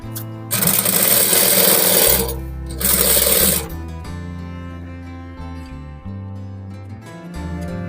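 A sewing machine stitches a shirt collar in two loud, rapid mechanical bursts close by, followed by quieter clicks and handling sounds.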